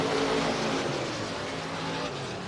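Race cars roaring together in a dirt-track heat race at Boone Speedway in Boone, Iowa, a loud, steady engine drone with layered revving that holds throughout.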